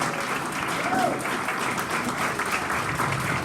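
An audience at a music business panel brunch applauds the panelists with steady, dense clapping that lasts the whole stretch.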